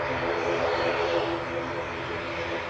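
A noisy propeller aircraft at Manchester Airport drones loudly and steadily nearby, a continuous broad engine roar filling the whole moment.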